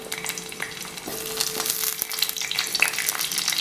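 Drumstick pieces fry in hot coconut oil in a pan, giving a close, continuous crackling sizzle with small pops and occasional stirring.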